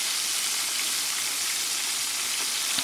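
Chicken-fried pork steaks sizzle in hot oil in a pan, giving a dense, steady crackle that stays loud and even throughout, with no voices.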